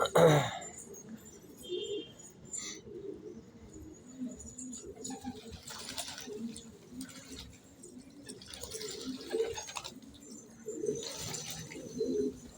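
Pigeons coo steadily inside a pigeon loft, low repeated murmuring calls overlapping close by across the whole stretch, with occasional brief rustles and a faint higher chirp or two.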